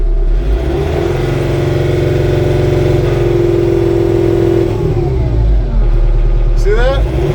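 An LS MT242 compact tractor engine runs steadily close by, a loud constant drone with a brief throttle change near the end.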